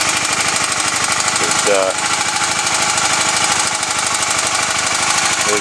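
A 1982 Honda CB450SC Nighthawk motorcycle engine idles loud and close in a steady, rapid, clattering rhythm, with a brief voice cutting in partway through.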